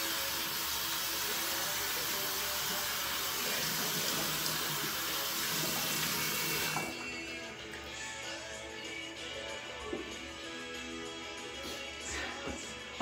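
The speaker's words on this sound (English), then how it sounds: "splash some water on my face" A bathroom tap runs steadily into a sink with splashing water for about seven seconds, then stops, leaving quieter drips and small handling noises close by.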